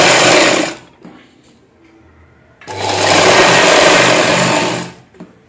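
A sewing machine stitches a folded strip along a blouse back neckline, with two loud, steady whirring runs separated by a quiet pause that holds faint handling clicks.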